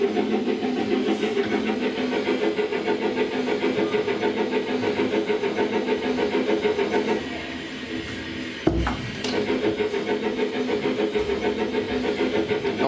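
A steam locomotive on the Bluebell Railway pulls away in a dense, loud, continuous rumble with a faint rhythmic texture, easing slightly before a sharp knock, then surging back up.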